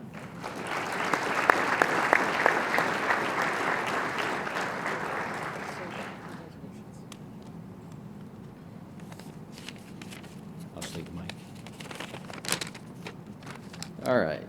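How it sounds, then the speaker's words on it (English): A luncheon audience at the Iowa PGA awards applauds a golf professional receiving an award, loud sustained clapping for about six seconds that then thins to scattered claps and shuffling in the room. "Please give a big round of applause to Jacob Bermel as our 2025 Assistant Professional of the Year."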